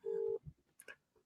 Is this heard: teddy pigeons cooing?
no